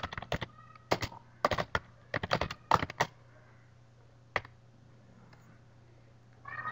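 Fingers type on a computer keyboard in quick bursts of close, crisp key clicks, pausing between clusters and ending with a lone tap and a faint final clatter, all over a quiet room hum.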